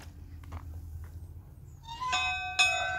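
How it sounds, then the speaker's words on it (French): Church bell rung by pulling a rope that runs up to it, two clear strikes late in the clip with ringing overtones, preceded by faint handling noises. "Là, ils ont mis une corde qui va jusqu'à la cloche, en fait, en haut."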